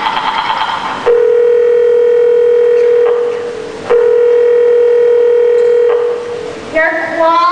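A landline telephone in a radio-drama style stage performance gives a loud, steady dial tone, breaks off briefly for dialing clicks, resumes, then cuts to a short burst of tones at the end.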